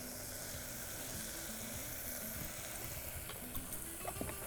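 Onions and tomatoes cooked down with spices in a pan give off a soft, steady sizzle, with a few light stirring taps toward the end.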